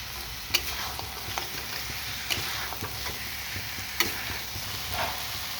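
Pointed gourd and lentil dumplings fry in spices in a pan, a soft continuous sizzle broken by occasional sharp ticks and stirring scrapes, fairly quiet and close.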